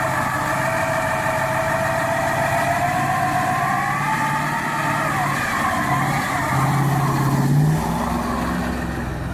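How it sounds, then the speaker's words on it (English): A 1970 Pontiac LeMans roars steadily while burning its rear tires, a loud continuous engine note with layered rising tones and a rough low rumble, swelling briefly near the end with no voices. "Burning the tires off the back end."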